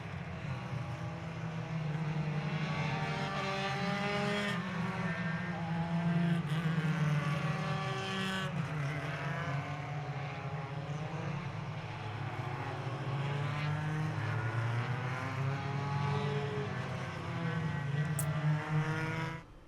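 Formula Enterprise open-wheel race cars at VIR circling slowly behind the safety car, a steady low engine drone with shifting pitch as cars pass, faint and continuous with no talk.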